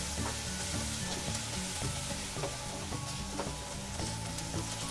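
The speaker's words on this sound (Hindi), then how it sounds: "साइड से ऑयल रिलीज होने तक अच्छी तरह से सारे मसाले को फ्राई कर लेती हूँ।" Spice masala with tomato puree fries in oil for a cauliflower and fenugreek sabzi, a continuous bubbling sizzle with soft scraping of stirring throughout.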